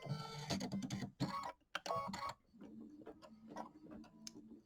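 A home embroidery machine stitches butterfly wings on a quilt block, giving a fast mechanical ticking and clattering rhythm, with louder bursts early on and then lighter, steady stitching.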